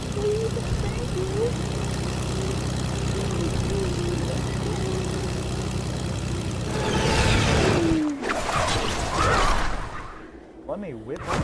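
A propeller airplane engine drones steadily in a video game, its pitch wavering, then rising and shifting near the end as the sound changes abruptly.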